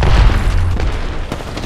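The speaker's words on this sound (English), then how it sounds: "Grenade, watch out!" A grenade explodes in a first-person shooter video game, a loud, dense boom with rumbling low-end debris that fills the whole moment up close.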